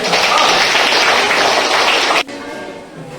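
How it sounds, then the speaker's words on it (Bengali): Loud, dense applause from a crowd at a quiz competition, a steady roar of clapping that cuts off abruptly partway through, leaving a quieter room tone. "জোরে হাততালি"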